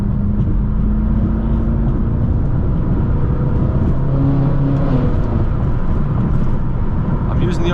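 An 800-horsepower BMW M6 revs hard with its wheels spinning, a loud, close, sustained engine roar with rising tones under the cabin noise.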